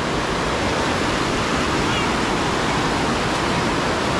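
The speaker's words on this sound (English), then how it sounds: "What a strong current, too." A strong river current rushes loudly and without a break, a dense, steady roar of water that fills the whole clip.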